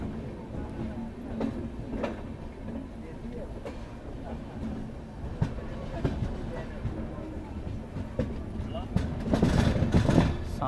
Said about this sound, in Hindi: तो प्लेटफॉर्म नंबर 6 पर अराइवल हो रहा है हमारा इंदौर जंक्शन पर।